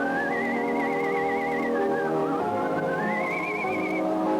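A person whistles a warbling melody with vibrato at a 1983 whistling contest in Carson City, Nevada, the tune clear and sustained over a steady background hum.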